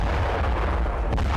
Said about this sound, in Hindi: डोनेट्स्क में यूक्रेन ने रातेल ड्रोन से इस तरह से धमाका किया